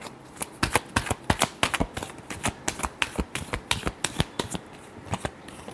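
Tarot cards shuffled by hand in a rapid series of crisp, snapping riffles and slaps, close and fairly loud, with no talking.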